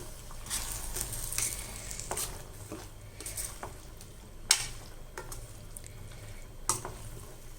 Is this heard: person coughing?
no